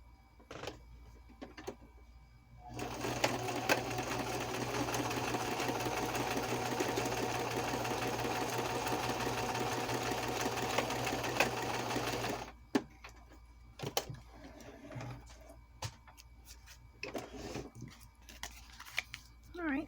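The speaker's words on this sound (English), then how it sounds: "So let me sew this first, and then we can figure out that." A sewing machine stitches a tuck spot for a journal: a steady, close mechanical whir runs for about ten seconds, set between quieter stretches with only small handling noises.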